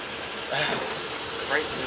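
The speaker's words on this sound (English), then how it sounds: "I'm taking the train." A steady, loud rushing hiss and rumble of a moving train, with a brief high squeal rising briefly near the end.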